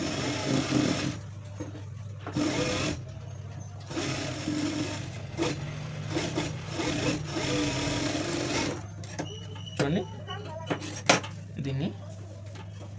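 A sewing machine stitches blouse fabric in several bursts of rapid mechanical whirring separated by short pauses, close and fairly loud, with a few clicks and light handling noises between runs.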